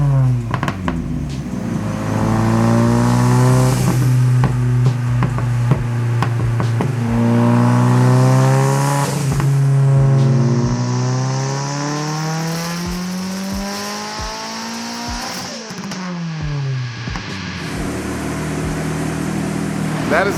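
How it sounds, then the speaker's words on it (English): Turbocharged 2.2 liter stroker SR engine in a drift car, running on a dyno at 16 pounds of boost on pump gas: a loud, sustained engine howl that rises through long pulls, dips with gear changes, drops off sharply, then idles and revs again. "On the dyno right now, we're about to go to ethanol, turn up the boost, make some juice"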